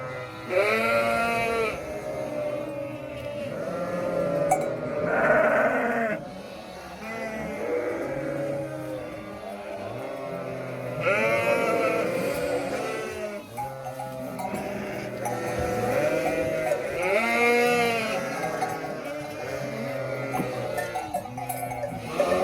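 Many sheep and goats bleat continuously in a loud, overlapping chorus, close by, with calls rising and falling throughout.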